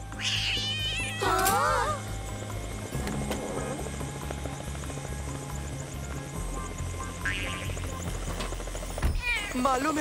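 Cartoon cat meowing and caterwauling in a kids' animated show, with a helicopter setting; several bright meows come in bursts over a steady droning background and music.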